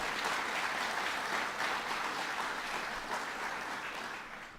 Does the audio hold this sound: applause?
yes